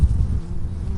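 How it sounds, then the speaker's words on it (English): Bees buzzing around lavender plants outdoors, a close, steady low drone filling the whole brief moment with no voices. "just watching the bees at work and the butterflies and whatever else that comes to visit the lavender"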